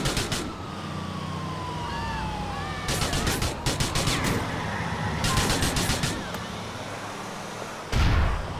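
Grenade explosions and gunfire in the video game GTA 4, with bursts of heavy blasts and rapid rattling shots over sirens and street noise, ending in a deep thump.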